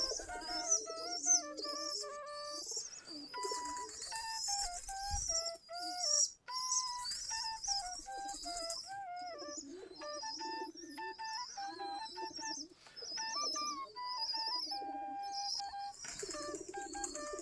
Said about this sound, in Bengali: আমাদের কবুতর